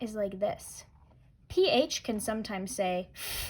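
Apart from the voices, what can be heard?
No everyday noises stand out.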